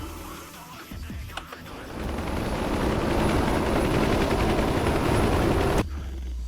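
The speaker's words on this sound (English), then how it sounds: "Is there an Apache just sitting here floating?" An Apache helicopter hovers in a video game, giving a steady, dense rotor roar that builds slightly and holds loud before cutting off sharply near the end.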